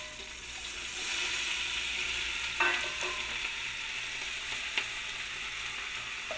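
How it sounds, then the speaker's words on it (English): Chili vegetables simmer and sizzle in a pot, a steady broad fizz and bubble with a couple of small clinks from stirring, moderately quiet and unbroken, with no voices. "So we got a really good simmer in here. The veggies are really cooking."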